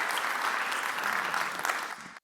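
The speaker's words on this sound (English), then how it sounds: "Big round of applause." Conference audience applauding, a dense steady wash of clapping for about two seconds that cuts off abruptly.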